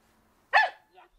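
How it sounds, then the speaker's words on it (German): A search and rescue dog in training gives a single sharp, close bark, followed by a faint short yelp; no one speaks over it. "Also bellt."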